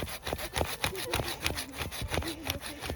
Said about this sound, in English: Probably should have bought a little bit bigger saw.